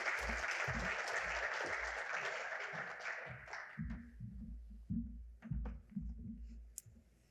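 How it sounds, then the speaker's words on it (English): Conference audience applauding at a general session on regional native seed partnerships; dense clapping for about three seconds, then fading into scattered claps and low room noise. "Can I have a round of applause, please?"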